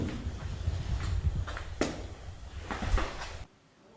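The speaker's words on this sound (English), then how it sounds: "I just had a knock happen on this shower right here." Knocks sound on a shower stall inside a grave digger's cabin at night, a few sharp raps standing out over a low, steady background rumble before the sound cuts to near silence.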